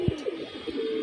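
A domestic pigeon, recently recovered from illness, gives one short, low coo close by near the start, then a steady background hum continues.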